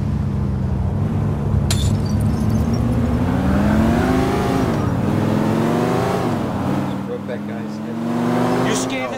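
A car engine in Grand Theft Auto IV drones steadily, its pitch rising and falling as it drives along.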